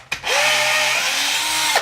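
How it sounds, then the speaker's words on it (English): A power drill spins in reverse to back nuts off a threaded stud, a steady close whine starting with a click and running about a second and a half before cutting off. "And to release the nuts, just reverse the drill."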